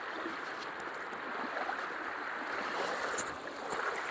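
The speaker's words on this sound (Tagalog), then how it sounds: "Mini falls." Small falls pouring in a stream with very clear water, a continuous close rushing and splashing that stays even throughout, with no talk.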